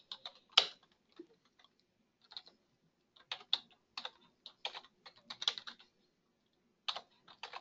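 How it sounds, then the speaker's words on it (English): A computer keyboard being typed on in short irregular bursts of light clicks, quiet and close with pauses between, with no talking. "you would click Add a List and then just type in the name of the list"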